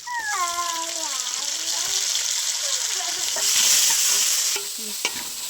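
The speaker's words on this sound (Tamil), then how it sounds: "வெங்காயம் நல்லா வதங்கட்டும்" Onions and then tomatoes frying in a pan for a village-style Madurai murrel fish curry, a steady close sizzle with stirring scrapes, while a voice talks over it in short phrases.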